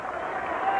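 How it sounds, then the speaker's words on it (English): Panther home crowd at a 1989 Permian vs Dallas Jesuit high school football game applauding the Permian defense after a stop, a steady wash of clapping and crowd noise under ongoing commentary. "the Permian defense getting a nice round of applause from the Panther crowd"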